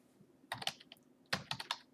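Fingers tap a computer keyboard in two quick bursts of close, crisp keystrokes, with a brief pause between them and no talking.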